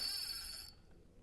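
A phone notification tone set to mimic a fishing reel's drag, out on the water during a fishing trip, gives a short, bright buzzing whirr that cuts off sharply after under a second.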